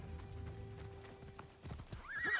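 Hooves clip-clop at a steady trot, then a horse gives a loud, rising whinny near the end, with a faint background hum, in the video game Assassin's Creed Odyssey.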